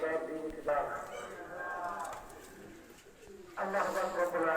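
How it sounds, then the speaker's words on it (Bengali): A male Chinese Teddy pigeon coos softly at close range while someone talks over it. "একটা চীনা টেডি নর কবুতার"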